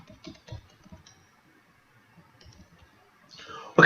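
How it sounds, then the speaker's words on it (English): Short bursts of clicking keystrokes on a computer keyboard, quiet and close, with a few scattered taps in a mostly hushed room before a louder noise at the end. "So I'll type system"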